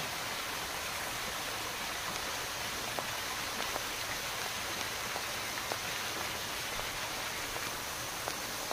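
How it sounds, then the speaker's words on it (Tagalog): At Caleruega a waterfall gives off a steady, dense rush of falling water, an even wash of noise with faint splashes and no break. "Ang falls ng Calderuega."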